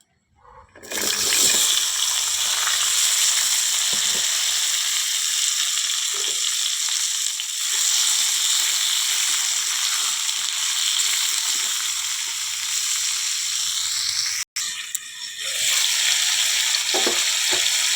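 Vegetables hit hot tempered oil and fry with a loud, steady sizzle that runs almost unbroken, with a short dip near the end, for a Bengali ghonto of pumpkin, potato and fish head.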